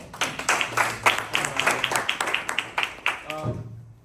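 An audience claps in applause to welcome a presenter at a Halloween-themed group presentation. The clapping is moderately loud and sustained, with a dense, uneven patter of claps, some talk mixed in, and a brief tail at the end.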